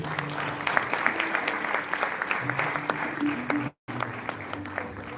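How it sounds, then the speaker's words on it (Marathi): An audience claps steadily and vigorously at a cultural event's inauguration, a dense round of applause that breaks off briefly near the end before resuming. "त्यामुळे या सगळ्यांसाठी जोरदार टाळ्या झाल्या पाहिजे."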